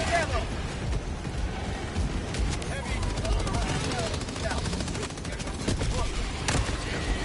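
Gunfire in the video game Helldivers 2: dense, near-continuous volleys of shots and blasts with sharp cracks throughout, one especially loud hit late on, over a rumbling battle background.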